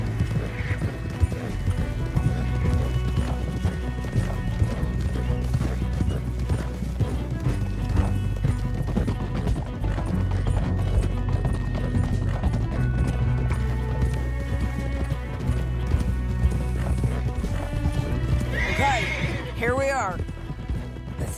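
Horses gallop in Red Dead Redemption 2, a steady drumming of hooves with music underneath and a shrill neigh near the end, loud and continuous while voices talk over it.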